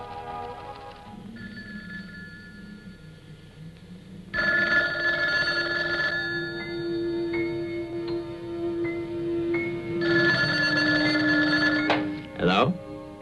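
An old landline telephone bell rings in loud bursts, an early ring fading out, then long clanging rings separated by a pause, followed by a handset clatter at the end.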